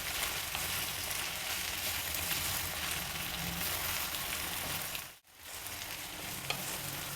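Mixed vegetables with capsicum fry in oil for Mumbai street-style hariyali pulao, a steady dense sizzle broken by a brief dip when the pan is stirred, with no talking.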